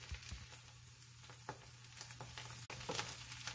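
Corned beef hash fries in a pan with a faint, steady sizzle broken by a few soft scraping and stirring clicks, close and quiet with no voices.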